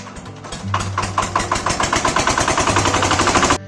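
Diesel power tiller engine restarted after a welded repair to its cracked fuel tank, chugging up and settling into a rapid, loud, close single-cylinder knock with steady rhythmic pulses, no talking.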